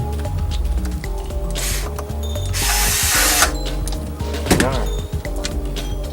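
A power drill set to torque setting 5 drives a screw into a Mjolnir 2 build, with a near, loud whirring burst mid-clip among workshop handling noises. Talk is faintly present.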